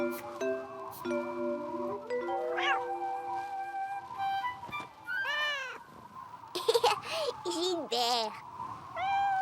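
A frightened cartoon cat meows repeatedly during a storm, several wavering, rising-and-falling cries coming close together over a soft musical background with light tones, fairly loud and clear.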